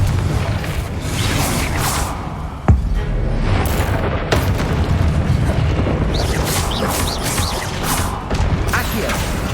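Spell blasts and explosive booms crash through combat in the Hogwarts Legacy video game, a loud dense mix of impacts and whooshes with one sharp blast near the start.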